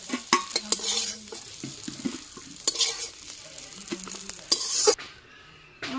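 Food fries in a pan until deep red, with a continuous sizzle broken by repeated scraping and stirring strokes, then the frying cuts off near the end as it comes off the heat.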